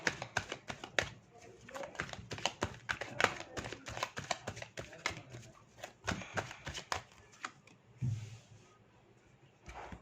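Tarot cards are shuffled and handled in a steady run of quick, close riffling taps and flicks, sounding crisp and fairly loud, with a voice speaking in places.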